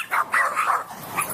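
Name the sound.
two loose dogs barking, dog fight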